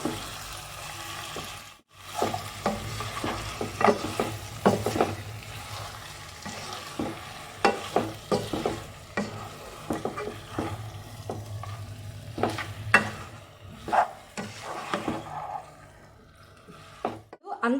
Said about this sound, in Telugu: మటన్ వేసుకుందాము ఇప్పుడు మొత్తం కలిసేటట్టుగా అంతా ఒకసారి కలుపుకుందాం